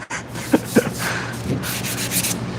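Sandpaper rubs across the body of a 1968 Dodge Charger R/T in short, close scraping strokes, with a couple of sharper knocks early on.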